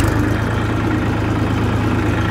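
A Massey Ferguson 241 tractor's diesel engine running steadily nearby with a low, throbbing idle-to-rev drone that holds at an even loudness throughout, with no voices.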